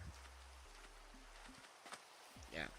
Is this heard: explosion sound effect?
no